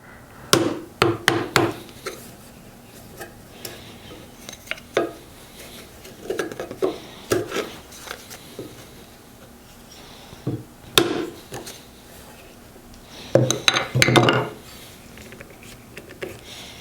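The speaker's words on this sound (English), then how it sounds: "we'll just take this piece of scrap walnut and see if we can tap it out of there" A piece of scrap walnut taps against a steel corner chisel to knock it out of its old wooden handle, giving a series of sharp, close wooden knocks in irregular clusters with quiet pauses between them.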